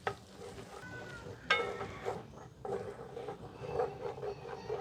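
Tomato paste cooks in the same pan used for shrimp, giving a soft, steady sizzle with scraping stirs and occasional sharper taps of a utensil, close and fairly quiet.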